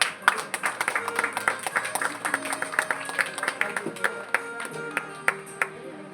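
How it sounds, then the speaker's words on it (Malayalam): Audience applause at a golden jubilee 50th wedding anniversary celebration, dense sharp claps sustained for several seconds with overlapping hands, fairly close and steady in loudness. "എല്ലാവരും കൈയടിക്കുക."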